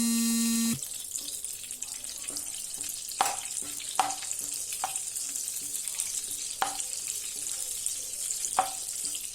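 Butter melting in hot oil in a pan for a chickpea chole curry, sizzling and crackling steadily up close, with a few sharper pops and clinks along the way and no talking.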